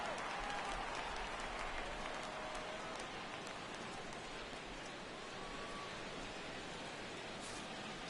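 Stadium crowd in MLB The Show 17 rising for a full 3-2 count, a steady roar of cheering and applause-like noise filling the whole stretch at even volume.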